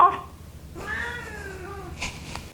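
A domestic cat meows close by, a short cry and then a long drawn-out meow, with a faint brief sound near the end.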